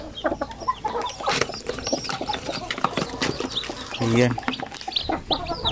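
Newly hatched pure Basilan chicks cheeping near a nest, busy high peeps and clucks mixed with louder hen calls, close by, with a person talking briefly.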